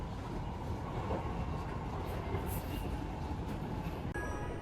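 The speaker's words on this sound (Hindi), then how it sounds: "ये रही लखनऊ की मेट्रो" Lucknow Metro train stopped at a station platform, a steady rumbling hum of the train and station with faint rail noise, continuous and fairly loud, no talk.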